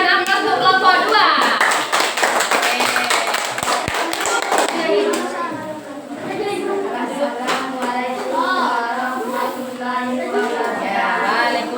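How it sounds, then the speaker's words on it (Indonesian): Primary-school children clapping in a classroom for a group, a burst of close, rapid applause that carries on unevenly with children's voices mixed in throughout. "ya kita berikan aplaus untuk kelompok 2"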